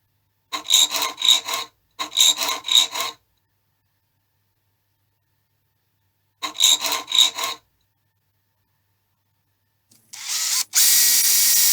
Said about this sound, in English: Then I could file it.